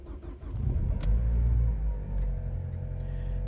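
A cold car engine starts up after a night in very cold temperatures: a brief crank and catch, then a loud rumble that settles into a steady, fast idle nearby.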